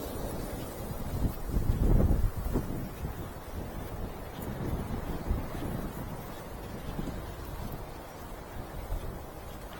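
Wind gusts across a riverbank with high water and a tree leaning out over the river, a soft, steady rushing with a stronger buffeting swell near the start.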